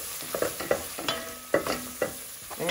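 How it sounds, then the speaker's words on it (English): Garlic tossed into a pan for a quick kale and white bean soup, with a spoon scraping and stirring in several distinct strokes over a soft, steady sizzle of sautéing, close and clear with no talk. "now I can add the garlic and mix it a little."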